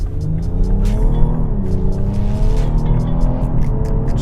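A 2018 BMW X3 M40i switched into sport mode pulls hard with a loud, steady engine roar whose pitch climbs through the revs, with a brief dip as the gear changes, heard close and continuous with no voices.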